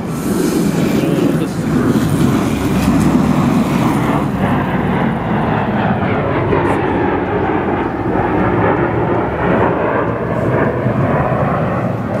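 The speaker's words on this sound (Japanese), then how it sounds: "オスプレイですか？ オスプレイですね。" A loud, deep rotor-engine drone from an Osprey tiltrotor aircraft passing overhead, swelling then slowly easing off.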